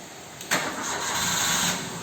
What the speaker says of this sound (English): When Lana started her car today